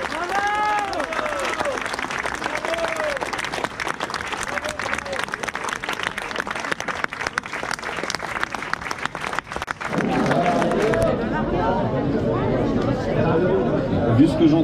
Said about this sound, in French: nous pouvons effectivement applaudir et soutenir